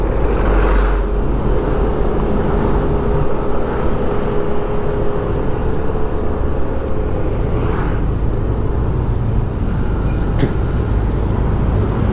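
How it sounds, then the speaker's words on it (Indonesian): Steady road and engine noise from inside a car overtaking another vehicle on a busy road in Kerobokan and Canggu, Bali, a constant loud rumble with a few brief bumps. "Kita salip ya mobil depannya."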